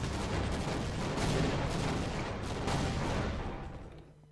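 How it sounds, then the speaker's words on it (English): A dense, roaring blast of noise from the video game Half-Life: Opposing Force fills the clip, like rumbling explosions and gunfire, staying loud before fading out at the end. "And the explosion in this game is so loud"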